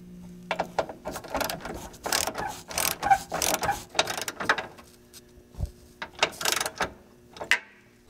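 A ratchet tightening a body bolt on a Volvo 850 during radiator and coolant replacement, loud close bursts of rapid clicking pawl strokes repeated in quick uneven runs with short pauses between.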